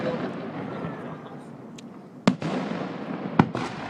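A fireworks show set off over a bay: a crackling, rumbling bed of bursts with two sharp, loud explosive reports standing out near the middle and end, no talk heard.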